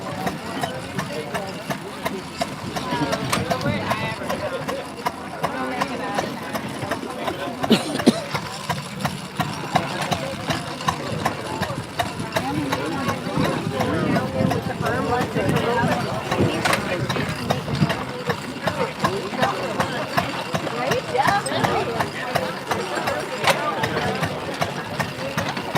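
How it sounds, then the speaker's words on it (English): A 1919 steam engine runs a 1912 threshing machine outdoors in a steady, busy mechanical clatter and rumble that never stops, with voices faintly under it. "The thrashing machine is a 1912, and the steam engine is a"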